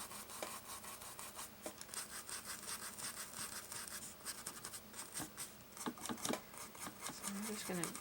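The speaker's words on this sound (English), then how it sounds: "So I'm just going to dry brush some of this color next to where I have the color already." A small scruffy dry brush scrubbing acrylic paint across a painted surface, giving a steady, faint scratchy rasp with rapid back-and-forth strokes throughout.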